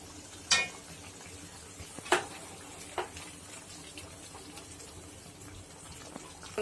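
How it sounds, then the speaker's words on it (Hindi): A spoon scrapes and clinks against a pan as cream is stirred into a spiced potato gravy, with a few sharp metallic knocks over a low, steady simmer. "मलाई डाल के मिक्स कर लेते हैं इसे"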